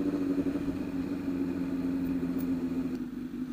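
A 2006 Honda CBR1000RR Fireblade motorcycle idles close by with a steady, even low hum that holds without a break, and no one speaks.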